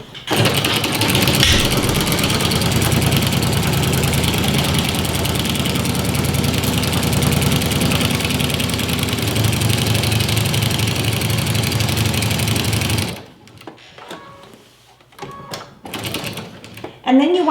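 A home sewing machine bastes a pillow seam on its longest stitch, running loud and steady with a continuous motor whir and needle rattle before stopping abruptly, followed by quieter handling noises and a voice.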